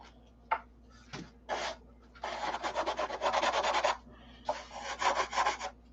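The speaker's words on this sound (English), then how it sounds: "Might as well get it sanded in with the rest of this stuff." A sandpaper block, 80 and 100 grit, rubbed by hand across wood, in short scratchy strokes at first, then long runs of quick back-and-forth strokes, close and fairly loud with no talking.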